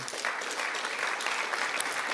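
Audience applause at a speech, a steady, dense wash of many hands clapping at moderate distance, continuous for the whole stretch.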